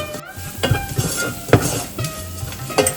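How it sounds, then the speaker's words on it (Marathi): Ground coriander and other spices being stirred and fried in a pan for Maharashtrian katachi aamti, a steady soft sizzle with a few scraping spoon strokes against the metal, close and without talk. "आता आपल्याला हे सगळे मसाले मिक्स करून घ्यायचे आहेत"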